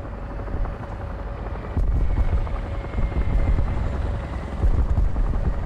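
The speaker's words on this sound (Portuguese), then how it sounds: "Temos um helicóptero aqui." A helicopter's steady rotor drone in the video game War Thunder fills the scene, loud and continuous, swelling slightly louder midway with faint game sounds scattered over it.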